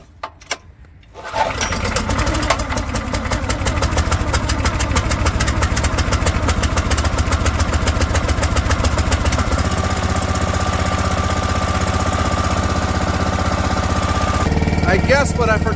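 An Axis firewood processor's engine, set to full choke and half throttle, catches after a few quiet knocks and settles into a loud, steady, rapidly pulsing run that holds close up for the rest of the time.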